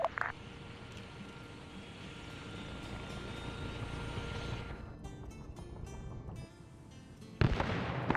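Grenades explode in an Arma Zeus multiplayer battle recreating the Battle of Ia Drang: several sharp, cracking blasts burst out over a steady rumbling battlefield drone, ending in a louder close detonation.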